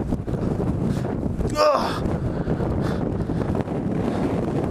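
Strong gusty wind buffets the microphone outdoors beside a leaning bike, a loud continuous roar with a brief surge, as a man groans once.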